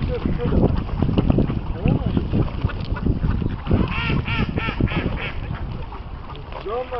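Swans and ducks being fed at a pond, giving repeated honks and quacks that rise and fall in bursts close by, with a person talking softly over them.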